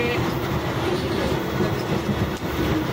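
A moving train runs on its rails with a continuous dense rumble and low rattling from the carriage, heard from inside, steady and loud throughout without speech.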